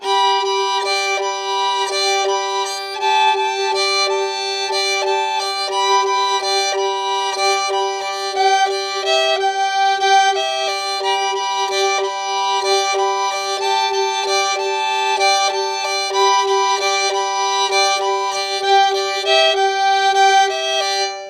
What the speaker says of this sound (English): If you're playing it with these double strings, the first two strings of the fiddle here